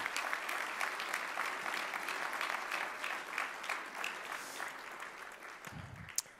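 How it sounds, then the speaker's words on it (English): A hall of fame ceremony audience applauds for athletics inductees, dense sustained clapping filling the room at an even level before tapering slightly toward the end. "Let's give them a round of applause,"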